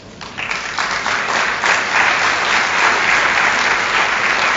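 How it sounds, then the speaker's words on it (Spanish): A seated audience at a panel on teacher evaluation breaks into sustained applause, many hands clapping in a dense, even roar that swells slightly and holds steady for several seconds. "Para quien pide un aplauso, por favor."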